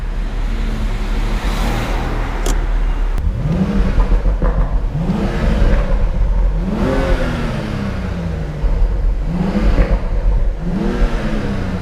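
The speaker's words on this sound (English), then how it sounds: "Give it some revs here, guys." A BMW M235i revs hard in repeated bursts, engine note rising and falling five or six times in a rhythmic sequence, loud and close, with road and traffic noise beneath.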